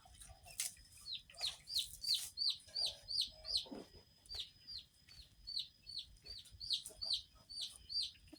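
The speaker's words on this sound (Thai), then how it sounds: "ไก่" Chickens cluck in a steady run of short, sharp calls, repeating about every half second with a few brief pauses, fairly close and clear over a faint low background rumble.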